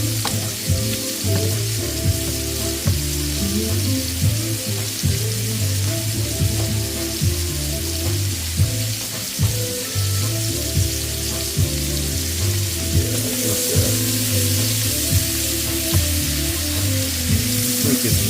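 Wild hog meat frying in butter in a pan on a stovetop, a loud, dense, continuous sizzle broken by frequent scraping and stirring knocks, with no one talking.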